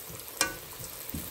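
Rose-shaped chips deep-frying in hot oil give a soft, close bubbling sizzle with one brief sharp crackle, all within a short moment.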